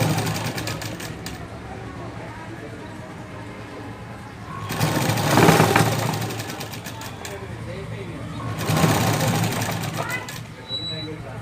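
An electric sewing machine stitches the back part of a garment in two separate bursts of rapid, whirring needle action, each lasting a couple of seconds, against a constant low background hum.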